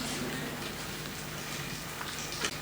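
Steady outdoor rain falls throughout, a dense, even hiss with a few brief louder patters near the end and no talking.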